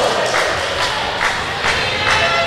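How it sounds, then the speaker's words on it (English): Crowd at an England vs Northern Ireland under-21 netball match lets out a sustained, fairly loud collective ooh with rising swells, steady throughout with no talk. "The oohs from the crowd"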